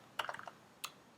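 Short bursts of computer keyboard typing as a command is entered: a quick cluster of close keystrokes, a pause, then two more isolated clicks, faint and with no speech.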